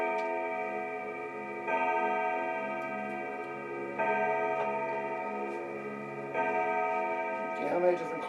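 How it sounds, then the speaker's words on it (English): Several clocks ticking together in a steady layered rhythm, joined by sustained ringing chime tones that swell at regular intervals, close and even, with no voices. "how many different clocks? 4? 5?"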